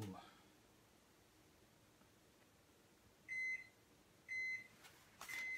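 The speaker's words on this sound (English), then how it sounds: "the microwave keeps yelling at me" A microwave oven in a home kitchen gives two short, bright beeps followed by a third, clear above a quiet room hum with faint rustling.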